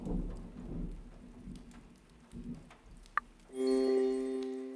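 Rain pours steadily during a video game storm, with low rumbles of thunder swelling and fading. A sharp crack comes near the end, then a sustained tonal chime rises over the rain.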